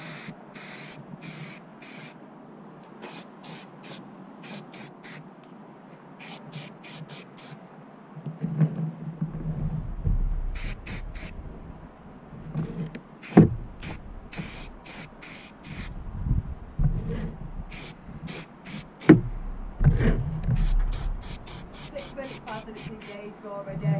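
Short bursts of aerosol filler primer dusted onto a styrene 1/14 scale truck model, the hissing sprays coming in repeated quick pulses with pauses between, close and moderately loud.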